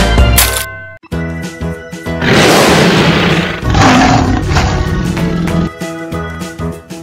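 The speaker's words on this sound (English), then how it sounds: "Tyrannosaurus Rex." Tyrannosaurus rex roaring, a long loud growling roar over music, with a shorter second roar following.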